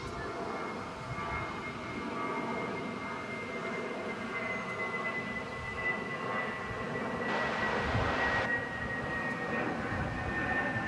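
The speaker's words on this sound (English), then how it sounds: "This is a 787-800 coming on back to the American Airlines hangar on this side of the airport." A Boeing 787 taxis toward the American Airlines hangar at Dallas Fort Worth airport, giving a steady, loud jet engine whine with a constant tonal hum that swells briefly partway through, heard from a distance with no talk.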